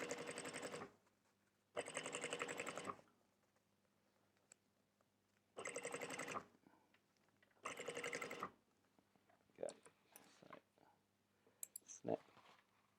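Sewing machine stitching a bicycle handlebar bag in four loud, close bursts of rapid mechanical whirring, with quiet pauses, clicks and handling noises between them, then sporadic clatter toward the end.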